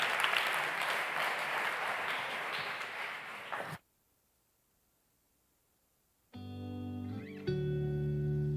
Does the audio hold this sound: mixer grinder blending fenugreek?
no